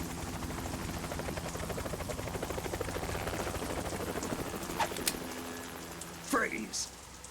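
A helicopter's rotor thuds in a steady, fast rhythm throughout in Metal Gear Solid 2: Sons of Liberty, loud and close, with a voice speaking briefly near the end.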